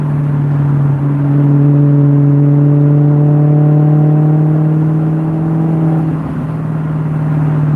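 A car engine hums at low revs around 2,000 RPM and gradually pulls higher in a steady, sustained drone, loud and close throughout.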